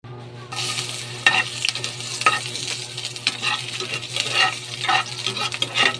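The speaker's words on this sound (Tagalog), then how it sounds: "Init muna ako ng mantika and then isusunod na natin yung ating sibuyas" Onion frying in heated cooking oil, a loud steady sizzle that starts abruptly as the onion goes in, with irregular stirring scrapes through the rest.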